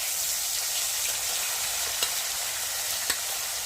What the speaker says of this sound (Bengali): চলো এইদিকে মাছ ভাজা হচ্ছে